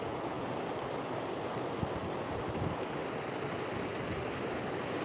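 A steady, full rush of flowing water from a small outdoor waterfall fills the whole stretch, constant and close with no voices.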